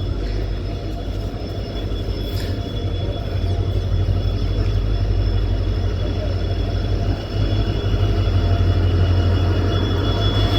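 A passenger train locomotive gives off a steady, loud low hum with a constant drone that swells slightly over time, heard alone and without a break.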